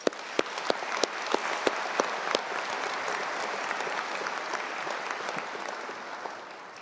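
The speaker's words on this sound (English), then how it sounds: "Let's give them a round of applause." Audience applause at a university convocation ceremony, a steady wash of clapping with a few distinct sharp claps standing out early, moderately distant.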